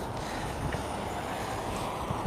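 Steady wind roaring and buffeting across the microphone, a constant broadband rush with no voices, like gusts near open water, at Boca Chica, Texas.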